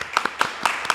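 A studio audience applauds guest Otmar Oduber on an Aruban talk show with a few crisp, close, individual hand claps in quick, uneven succession. The burst is brief and light.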